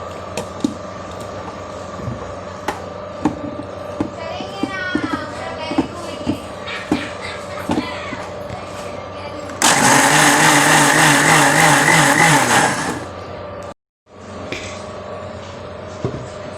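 A grinder grinding rice and shallots for rose cookie (achappam) batter roars loudly for about three seconds, then cuts off. Before it, quieter kitchen clatter and background hum.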